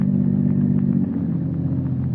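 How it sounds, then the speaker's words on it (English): A motor car engine purrs steadily in a low, even rumble, loud and continuous throughout with no other sounds over it. "The unearthly silence is broken only by the purr of a motor car."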